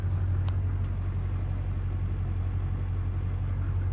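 A Duramax diesel truck engine idles after starting, a loud, steady low rumble with an even knocking rhythm, close by and continuous, with no talk.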